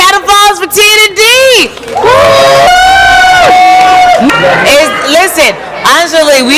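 A live reunion-show audience cheers and whoops loudly, with overlapping excited voices shouting and calling out close by.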